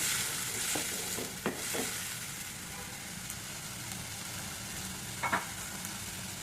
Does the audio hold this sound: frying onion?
yes